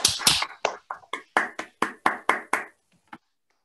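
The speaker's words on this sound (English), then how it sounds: "Please unmute yourselves and applaud the speaker." Participants in an online maths seminar unmute and clap for the speaker. About a dozen sharp, separate claps ring out at an uneven pace, then thin out to a final lone clap before silence.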